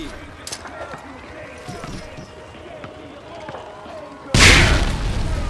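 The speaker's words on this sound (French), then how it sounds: "Lancez une grenade dans le champ de tir pour abattre plusieurs cibles d'un coup." A frag grenade detonates on a firing range in Call of Duty: Modern Warfare 2 (2009), played on Xbox One S. It lands as a sudden loud boom with a rumbling tail after a stretch of quieter in-game ambience.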